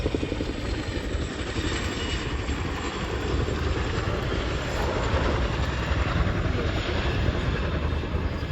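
A Chinook helicopter performs a wing over at the RAF Cosford air display, its loud, steady rotor and engine roar filling the air with a continuous broadband rumble throughout.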